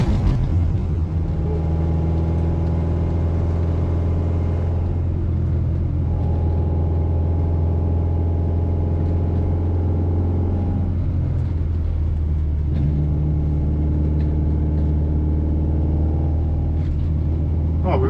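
A restored classic Mini driving downhill in third gear, a steady droning engine hum with low rumble inside the cabin, pitch shifting slightly as speed changes, continuous and close.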